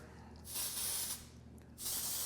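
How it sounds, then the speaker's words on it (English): Two short hissing bursts from an aerosol hair spray can, close by, with a brief pause between them. "So let's go back, spray it on right there."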